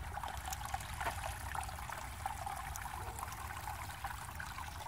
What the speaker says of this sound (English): Little waterfall, huh?